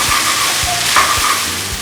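Day-old rice being stirred in a frying pan for egg fried rice, with a continuous loud sizzle and rhythmic scraping strokes of the spatula roughly every quarter second.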